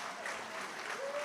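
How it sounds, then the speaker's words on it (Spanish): A church congregation claps during a Sunday worship service, a brief, fairly soft wash of applause with no clear beginning or end, and a faint tonal sound running through it. "Denle un aplauso a Jesús por eso."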